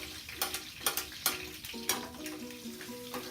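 Food sautés in a pan at a quiet level, with a soft sizzle broken by several sharp utensil clicks and scrapes against the pan, alone without talk.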